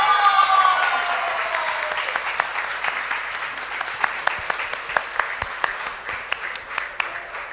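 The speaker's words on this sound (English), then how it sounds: "We should continue clapping." Audience applause at a market research awards ceremony as winners are announced, a dense, steady wash of many hands that gradually thins, with a few loud individual claps standing out toward the end and a voice faintly at the start.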